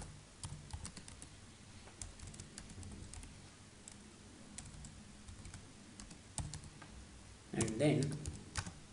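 Fast bursts of clicks from typing on a computer keyboard while entering text into email and password fields, light and close, with a voice speaking over the keystrokes.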